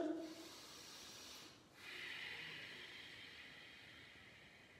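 Soft, airy breathing during a Vinyasa yoga routine, a long hissing breath that briefly fades before another steady breath follows, faint and close with no talking.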